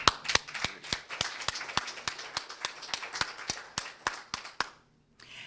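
A small audience at a hospital press conference applauds a hand transplant surgical team, a run of sharp, fairly sparse claps in a steady rhythm that stops abruptly near the end.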